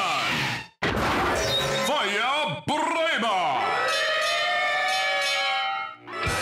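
A toy fire engine siren from a Kamen Rider Drive toy wails with rising and falling electronic tones, bright and close, broken by a couple of short clicks.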